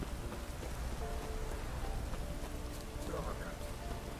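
Rain falling steadily in Velen in The Witcher 3, a soft continuous patter on the ground with faint background tones and a brief murmur of voices near the end.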